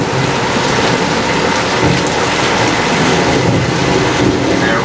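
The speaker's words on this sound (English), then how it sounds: "Rain is created by pointing sprinklers upward." Artificial rain pours at a studio backlot, made by sprinklers aimed upward so water falls back down, a loud, dense, continuous hiss of drops splashing onto surfaces.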